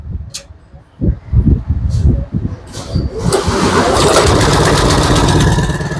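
A new Japanese-brand 3-inch petrol water pump engine is pulled over a few times with short knocking bursts, then catches and settles into a loud, steady close-up running drone.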